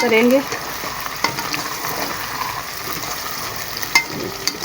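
Garlic paste and chicken (mutton) frying on high heat for a spinach meat curry, with a steady loud sizzle and occasional stirring clatter throughout, and a brief spoken word near the start.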